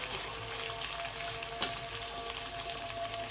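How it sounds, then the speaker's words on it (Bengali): Pieces of pointed gourd frying in hot oil, a steady soft sizzle throughout with one brief clink of a utensil near the middle, no voices. "পটলগুলো ভাজা ভাজা হয়ে এসছে"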